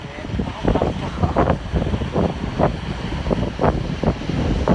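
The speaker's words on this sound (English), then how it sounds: "the waves are coming in" Rough sea waves roll in at Gibraltar, a series of loud wash-and-break surges over steady wind buffeting the microphone, close and continuous.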